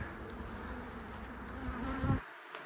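Honeybees buzz steadily at a beehive during swarm-prevention work, a dense droning hum that holds for about two seconds and then drops away.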